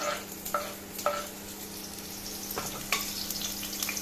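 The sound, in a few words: onion sizzling as it is added to hot oil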